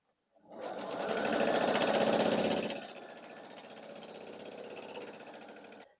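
Sewing machine stitching quilt block pieces starts abruptly and whirs fast and close, loudest for the first couple of seconds, then continues at a slightly softer, steady stitching pace until the end.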